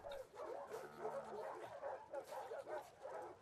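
Dogs in the video game The Last of Us 2 give soft yips, whimpers and short barks in a quiet, uneven series, with faint talk beneath.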